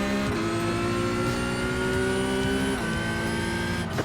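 Porsche 911 Cup race car engine in iRacing, a steady high-pitched howl that climbs through the revs with brief dips at gear shifts, loud and continuous.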